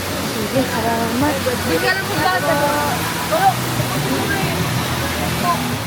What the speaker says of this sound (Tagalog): Ang ilog na dumadaloy hanggang sa Marikina at Maynila at siyang pinagmumulan ng tubig ng Wawa Dam.